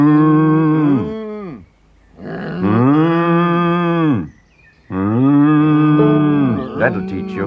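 A cow on a farm moos loudly and close three times in a row, each call long and drawn out with short pauses between.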